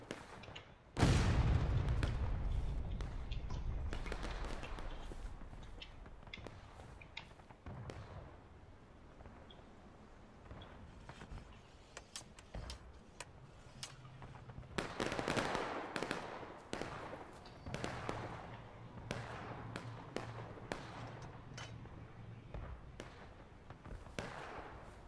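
Musket volley fire in the War of Rights video game, a loud opening volley followed by scattered sharp cracks and later another cluster of shots, some near and some distant.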